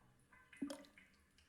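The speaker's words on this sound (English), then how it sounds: "The faucet leaks a droplet of water every few seconds." In the game Three Minutes To Eight, a leaking faucet lets fall a single droplet that lands with a soft, brief plink amid near silence.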